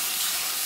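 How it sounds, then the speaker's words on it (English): A sauce and rice mixture simmers in a pan on low heat, giving a steady, even hiss and gentle sizzle that holds without a break, close and moderately loud. "I'll probably put the pan on low though and just let it simmer"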